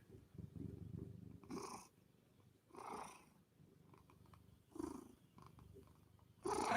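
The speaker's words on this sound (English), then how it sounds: "That's a purring kitty." A house cat purrs right against the microphone, a soft continuous rumble broken by several louder breathy swells as it inhales and exhales, quiet and close in an otherwise still room.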